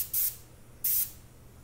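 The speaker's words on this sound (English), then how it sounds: "let's go and do a gentle little spray pass on" Two short, crisp hissing bursts of spray paint on prop hand cannon parts, each lasting about a fifth of a second with a brief pause between, close and clear with a faint low hum beneath.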